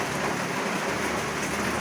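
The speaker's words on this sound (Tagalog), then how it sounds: "sa terrace, klarong-klaro po yung ulan" Heavy rain heard from a terrace falls in a dense, steady hiss of drops on surfaces, loud and continuous throughout.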